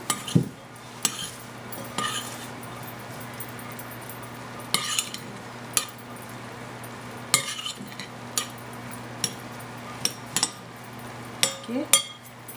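Spoon clinking and scraping against a bowl while stirring a moong dal filling seasoned with garlic, ginger and chili, a series of light, sharp taps spaced irregularly over a steady low hum.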